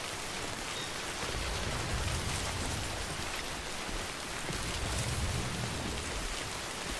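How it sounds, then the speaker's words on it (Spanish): Steady rain falls in the video game Death Stranding, a soft, continuous hiss with a low, faint rumble underneath, unbroken from start to finish. "Hay lluvia, pero no hay mucha presencia de V"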